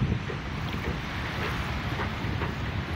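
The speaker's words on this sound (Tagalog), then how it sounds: "Ayan ang dagat guys, oh." Steady wash of sea water at the Manila Bay shore mixed with strong wind buffeting the microphone, continuous and fairly loud.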